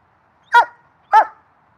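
A puppy barks twice, each a sharp, loud, close yip spaced about half a second apart in otherwise silent surroundings.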